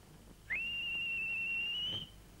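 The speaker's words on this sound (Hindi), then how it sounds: "फौरन हमें सीटी बजा करके होशियार कर देना। खतरे की सीटी बजाना जानते हो ना तुम?" A single sustained whistle blast held steady for about a second and a half, sounding clear and prominent against a quiet background as a warning signal in a 1980 Bollywood film scene.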